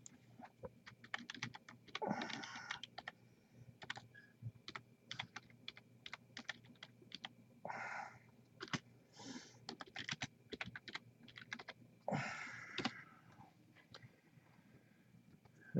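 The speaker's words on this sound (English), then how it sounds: "type that in for you" An email being typed on a computer keyboard, steady bursts of close key clicks over about fifteen seconds, with brief louder clattery patches and short pauses, no talking.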